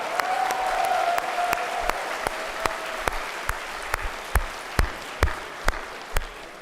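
Applause from an audience at a campus speaking event, a dense wash of clapping early on with a whistle, thinning into slower, rhythmic synchronized claps near and fairly loud that continue to the end.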